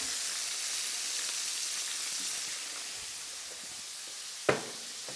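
Onions frying in hot oil give a steady, close, even sizzle throughout, with one sharp knock near the end.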